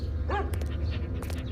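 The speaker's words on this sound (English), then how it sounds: "You can stream it while you walk the dog." A dog lets out a short, close bark, followed by a few fainter yips over a steady low background hum.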